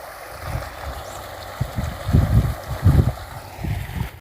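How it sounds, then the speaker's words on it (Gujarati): Water flowing out of an irrigation pipeline in a wheat field, heard as low gurgling surges and splashes in uneven bursts over faint wind noise, close to the microphone. "પાણી હાલે છે"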